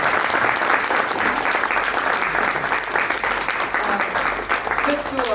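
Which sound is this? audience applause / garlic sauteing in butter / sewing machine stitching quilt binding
audience applause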